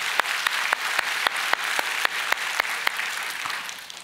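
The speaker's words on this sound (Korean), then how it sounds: "우리 리더십들을 위해서 박수 한번." A church congregation claps together during a Sunday worship service, a steady, dense applause with sharp individual claps rising out of it, sustained at even loudness for the whole stretch with no talking.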